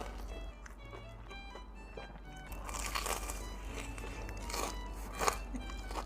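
Bites into a crunchy fried risol filled with wagyu beef and garlic, giving crisp crackling crunches and chewing close to the mic, growing louder midway, with no talking.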